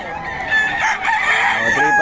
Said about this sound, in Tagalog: Boss Rod, magkano mga manok natin?